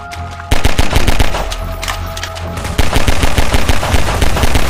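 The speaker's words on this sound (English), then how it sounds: "we just have to shoot them a lot" Rapid automatic gunfire from the Garry's Mod video game, loud and close, with dense bursts of shots that intensify partway through, with no talking.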